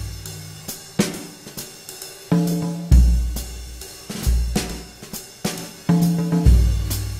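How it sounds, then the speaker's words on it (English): Jazz drum loop from the Spectrasonics Stylus RMX New Orleans Strut library: loud, punchy kick, snare and cymbal hits in a repeating loose shuffle groove, played alone. "where you have a really great loop, like this jazz loop."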